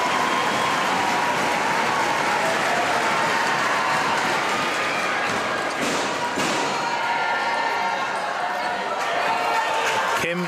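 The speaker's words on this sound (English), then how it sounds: "The crowd are going to make some noise now" A crowd at a para table tennis wheelchair doubles match applauding and cheering in a continuous dense roar with thumping sounds, lasting throughout, and a commentator talking over it.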